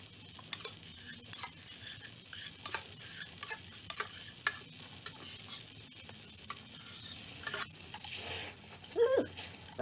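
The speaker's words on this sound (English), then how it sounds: "I'm gonna put my butter on the fire" Butter sizzles in a canteen cup over a campfire, a faint continuous crackle broken by frequent sharp clinks and scrapes of a utensil against the metal cup, close and fairly quiet.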